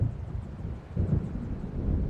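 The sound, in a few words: thunder of an approaching storm in Alan Wake video game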